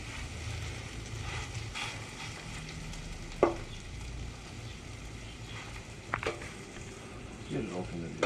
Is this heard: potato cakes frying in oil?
yes